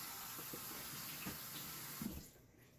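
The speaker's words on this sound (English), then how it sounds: "I'll get some blueberries and wash them through my hands here to make sure they're clean" Blueberries rinsed under a running kitchen tap, a steady close hiss of water hitting the fruit and sink with faint splashes, cutting off near the end.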